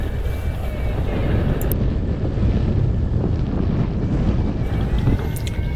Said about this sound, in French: il y a un petit peu de vent qui nous contre